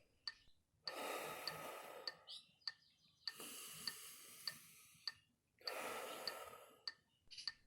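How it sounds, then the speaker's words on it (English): Slow, deep breaths in and out alternate in a steady rhythm, three long airy inhales and exhales close to the mic, paced against a soft ticking beat. "Start by breathing in for 4 counts and out for 4 counts."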